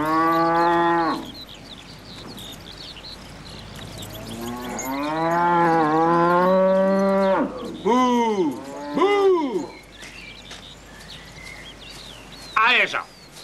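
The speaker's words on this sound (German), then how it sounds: "Hier sind Kühe!" Cows mooing in a series of long, loud, close calls, several drawn-out lows rising and falling, with shorter moos following and no talking.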